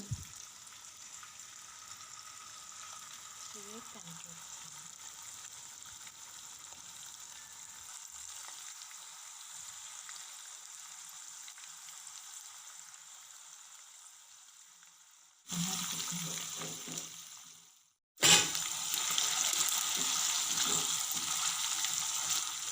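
Prawns fry in a pan with a steady, hissing sizzle that runs on at moderate volume, then briefly cuts out and comes back louder after a short clatter, with no talk.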